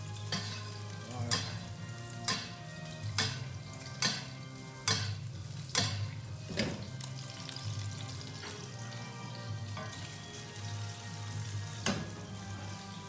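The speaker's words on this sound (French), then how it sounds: "Je vais arroser mon poisson." Fish fillet sizzling steadily in a frying pan while being basted, a constant crackling fry punctuated by sharp, regular spoon clinks and splashes about every second, close and fairly quiet with no talk.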